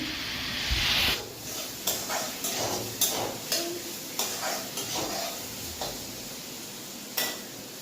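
Snake gourd frying in a pan in a home kitchen, a soft steady sizzle broken by regular clinks and scrapes of a utensil stirring against the pan.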